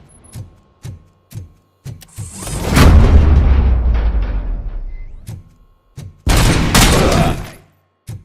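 Gunfire in the video game RoboCop: Rogue City: several sharp single shots spaced out, then a long rumbling burst of heavy fire with a booming low tail, another loud burst and a last few isolated shots.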